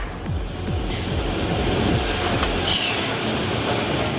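A giant inverted boomerang roller coaster train rumbles along its track, a heavy rolling roar with repeated clacks and swooshes building and fading, moderately loud without speech.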